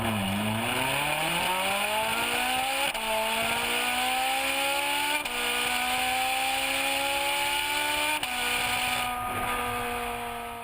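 A Ferrari 458 Italia V8 engine revving hard in repeated climbing pulls, each rising in pitch before brief shift breaks, loud and close with a constant high whine and no talking.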